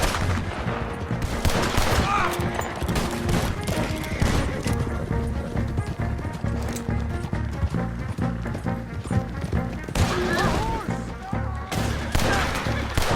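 Gunfire rattles through a shootout in Red Dead Redemption 2, dense bursts of shots layered with hoofbeats, game music and shouted voices, loud and continuous.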